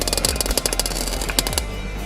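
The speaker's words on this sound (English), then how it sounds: "There's nothing worse than welding shit metal upside down." Arc welding on the underside of a Land Rover Discovery 300Tdi, done upside down on poor metal: rapid irregular crackling bursts, loud and close, with sharp pops running continuously and no voices.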